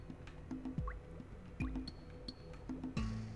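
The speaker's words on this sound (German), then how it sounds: "Oh, hier kommen sogar Tropfen runter." Water drops falling in a cave scene of the Jak and Daxter PS4 HD game: several distinct, resonant plinks at irregular intervals over a faint ambient background, with no talk.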